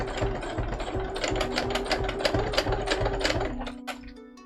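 A sewing machine running a cosplay costume seam, stitching in a steady rapid mechanical clatter close by, then slowing and stopping near the end, with no voices.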